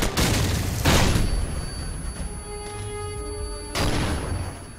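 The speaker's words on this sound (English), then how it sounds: "You also have grenades and flashbangs, which is a really cool effect" A loud, booming grenade or flashbang blast in Call of Duty: Modern Warfare, with dense rumbling explosions and a ringing tone that fades and then bursts again near the end.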